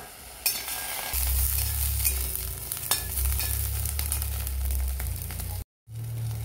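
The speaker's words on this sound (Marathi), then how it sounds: "आमटीसाठी जे साहित्य घेतले ते भाजून घेणार आहोत." Green chillies roasting in a hot pan, a continuous close sizzle with intermittent stirring scrapes and a low hum underneath, broken by a brief silent gap near the end.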